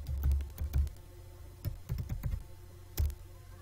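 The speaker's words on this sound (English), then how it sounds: "and then I'll type in my root password." Keystrokes on a computer keyboard as a root password is typed in a Fedora Linux terminal. The close, crisp clicks come in short irregular bursts with small pauses between them.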